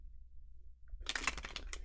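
A deck of tarot cards gets one quick riffle shuffle, a brief burst of crisp papery flutter after a near-silent pause, close by.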